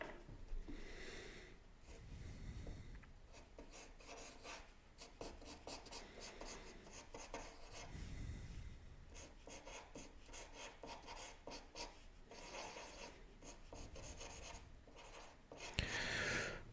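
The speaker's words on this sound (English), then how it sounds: "just about started drawing off camera again" Pencil or pen drawing artwork by hand on paper, a long stretch of soft scratching and rubbing strokes in irregular bursts, close and quiet, with a few sniffs and no talk.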